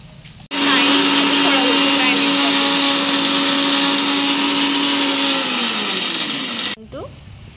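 A blender runs loud and close, whirring steadily for about six seconds as it purees cut fruit into juice, then its pitch drops as it winds down and switches off.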